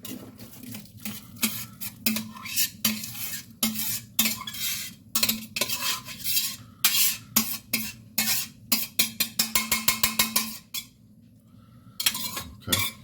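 Browned meat being drained in a kitchen pan, with a utensil repeatedly scraping, clinking and tapping against the metal in irregular bursts and a quick run of rapid clatters, close and fairly loud with no talking.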